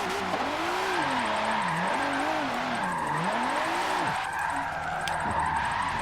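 A car drifts on the e-brake in the racing game Forza 7, tires squealing in long wavering whines over a steady engine drone, loud and continuous.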